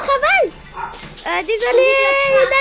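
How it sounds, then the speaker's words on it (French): Small pet dogs yip and whine in short, high, wavering bursts close by, overlapping a woman's speech indoors. "c'est juste mes chiens qui disent n'importe quoi"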